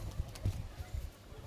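Pigeons in a loft give soft, low, throaty coos, a few short murmurs close by and faint over a hushed background.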